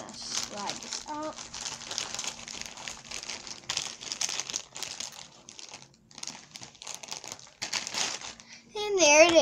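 A plastic bag crinkles in bursts as a model pencil tanker train car is slid out of its packaging, close and fairly soft, with brief child-like voice fragments and tapping among the rustles.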